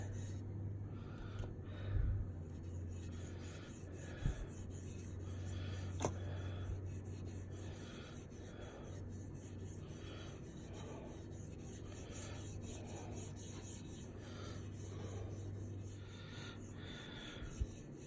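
Boiled linseed oil is rubbed by hand into the wooden stock of an M1 Garand rifle, giving soft, faint, repeated rasping strokes with a few small knocks and no voices.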